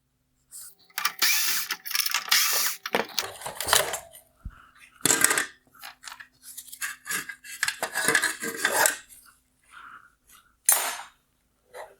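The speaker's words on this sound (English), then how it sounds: "Next, I'll remove the T20 screws holding on the outer turn signal." Screws being removed from a 2021-2022 BMW 430i LED headlight with a T20 driver, heard as a close, irregular series of metallic clicks, clinks and rattles of small parts with short pauses between, and no talking.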